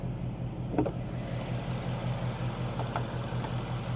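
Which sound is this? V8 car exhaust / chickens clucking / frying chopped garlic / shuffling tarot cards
V8 car exhaust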